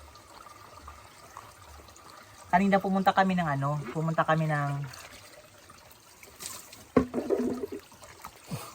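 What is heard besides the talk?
deep well water splashing while bathing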